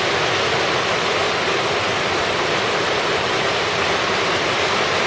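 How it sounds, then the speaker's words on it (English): A waterfall at a creek in a wilderness area pours steadily and loudly, a dense unbroken roar of falling water that fills the whole scene without pause. "water falling everywhere"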